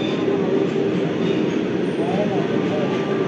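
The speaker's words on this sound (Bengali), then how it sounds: "এখন আসছে 13152 জম্মুতাই কলকাতা এক্সপ্রেস, লেট করেছে আজকে। আসছে দেখুন, ঢুকে গেছে স্টেশন।" Jammu Tawi–Kolkata Express passenger train entering a station on the Howrah line, a steady, loud rumble of rolling wheels and carriages with faint squealing.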